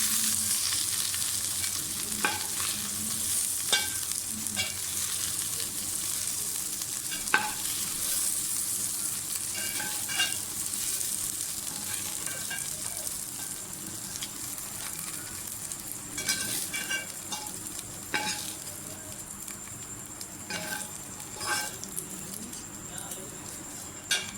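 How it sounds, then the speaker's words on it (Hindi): Okra (bhindi) frying crisply in hot oil, a continuous bright sizzle with occasional clinks and stirring knocks, and faint birds chirping in the background. "भिंडियाँ भी फ्राई हो गई, उनको भी निकालना है"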